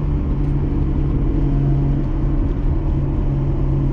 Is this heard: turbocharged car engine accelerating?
yes